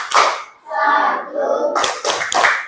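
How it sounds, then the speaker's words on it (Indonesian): Children in an Indonesian classroom clap out the tepuk rukun Islam chant, bursts of hand claps alternating with sung chanted voices, lively and close. "1, 2, 3, tepuk rukun Islam."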